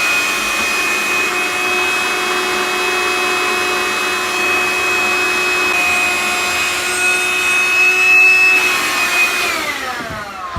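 A small vacuum cleaner cleaning a PS5 whines steadily with a high pitched motor tone, then winds down near the end; no talking.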